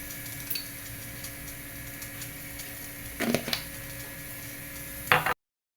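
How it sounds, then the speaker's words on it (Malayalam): Mustard seeds crackling in hot oil in a home kitchen, a faint steady sizzle with scattered small pops and a brief louder burst of crackles near the middle and end. "അപ്പോൾ കടുക് പൊട്ടിയിട്ടുണ്ട്."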